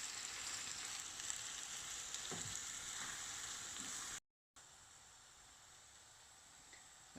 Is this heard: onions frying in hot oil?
yes